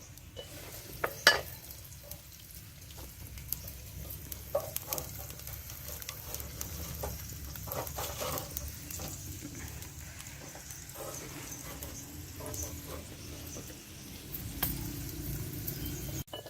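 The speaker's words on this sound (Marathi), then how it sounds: "तेल टाकले दोन पळ्या कांदा टाकायचा परतायचा असं छान कलर तांबूस येईपर्यंत" Onion fries in hot oil and is stirred with a ladle, giving a faint, steady sizzle with intermittent scraping and clinking strokes throughout, no voices over it.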